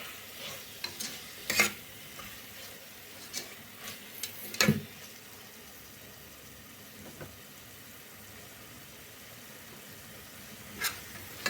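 Tomato, coriander and mint being sautéed in a pan for coconut milk rice, a low, soft sizzle broken by a few sharp clanks and scrapes of a spatula, most of them early on.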